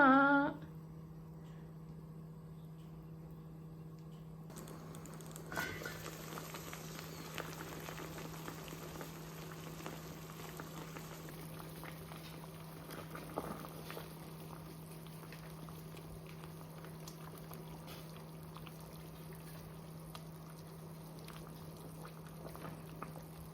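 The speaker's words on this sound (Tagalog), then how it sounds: "pagpakulo na tayo ng tubig na may kamatis, sibuyas at sili" Water with tomato, onion and chili simmers at a steady boil in a pot for fish sinigang, a faint continuous bubbling with a low hum and occasional soft clinks.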